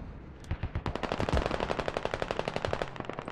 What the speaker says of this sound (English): Machine gun mops him up